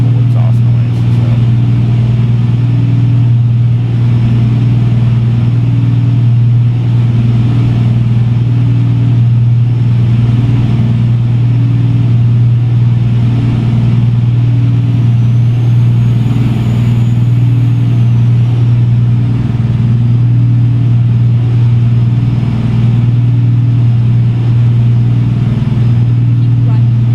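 A diesel truck engine, a CAT 3406B in American Truck Simulator, drones at a steady low pitch throughout, with a faint high turbo whine above it and occasional speech mixed in.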